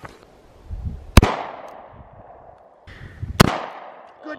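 Two sharp, loud gunshots about two seconds apart during outdoor target shooting, each followed by a ringing decay, with faint background noise between them.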